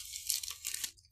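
Plastic bag being torn open, a close run of crisp tearing and crinkling bursts lasting about a second with a brief pause before a final rip.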